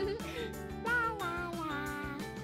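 A cat meows several times over a toy-play scene with tonal, music-like layers and a steady low background hum throughout.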